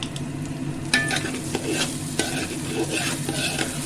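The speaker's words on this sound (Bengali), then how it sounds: "চাল আর ডালটা একটু ভেজে নেব" Rice and lentils fry in a hot pan with garam masala: a steady, close sizzle runs throughout, broken by sharp scrapes and clinks of stirring.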